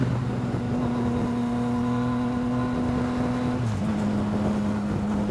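Yamaha MT-09 SP motorcycle engine drones under acceleration, its tone stepping down midway at a quick-shifter gear change, with wind rushing over the microphone.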